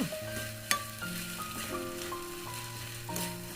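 Glass noodles for japchae are tossed with separately stir-fried vegetables in a hot pan, giving a steady crackling sizzle with a sharp utensil tap or two as the mixture is turned.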